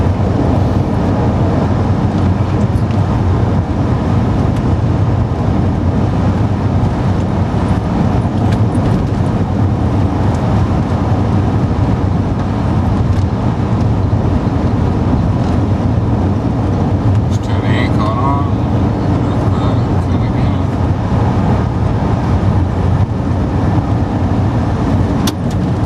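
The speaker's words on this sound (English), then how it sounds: "I can be leaving my driveway doing 100k, as you can see" A Ford Falcon BF Mark 2 RTV ute cruises at about 100 km/h, giving a constant loud road and engine roar with heavy wind and tyre noise throughout.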